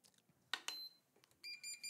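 Short electronic startup chime from a Bose Bluetooth speaker in a quiet indoor room: two quick bright tones followed by a brief rising sequence of clear beeps, fairly close and alone without talk.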